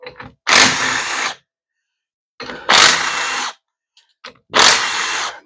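A power tool taking apart the pump of a Ford 4R70W transmission from an F150, running in three loud, close bursts of about a second each, with short pauses between them.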